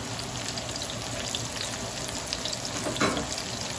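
Mushrooms frying in a pan for a vegetable dish cooked with onion, a steady close sizzle throughout with a brief stir or scrape near the end, no talking.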